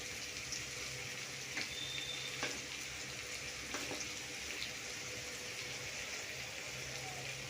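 A spoon stirs rice with vegetables in a sizzling frying pan, a steady close hiss of frying with a few faint scrapes and clicks from the utensil, no voices.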